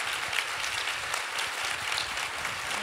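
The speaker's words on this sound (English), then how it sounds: "Look at everybody clapping for you." A standing audience at a 2012 assets leadership conference applauds three savers, a dense, steady wash of many hands clapping close and loud throughout, with no talk over it.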